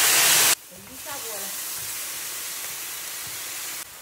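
Cooking wine splashed into a hot wok over a wood-fired stove in a home kitchen: a loud burst of sizzling hiss, then a steady softer frying crackle with clinks of utensils.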